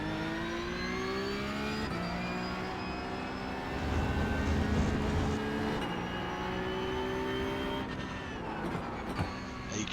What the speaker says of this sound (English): You can hear the tires just eating up, just getting shredded.